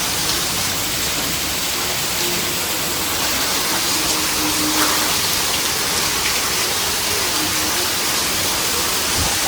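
Steady heavy monsoon rain pouring down in Surat, a dense continuous hiss with no voices, loud and unbroken throughout.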